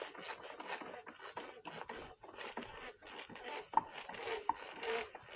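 Plastic oil filter housing cap on a VW Passat rubbing and squeaking as it is hand-tightened, plastic grinding against plastic in a continuous scratchy rasp with small creaks, close up and without talk.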